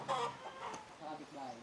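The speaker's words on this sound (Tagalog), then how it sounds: "Pangsabong pala yung mga manok nila." Fighting roosters clucking in short bursts at moderate distance, with a faint background murmur of people, in a remote village in Pangasinan.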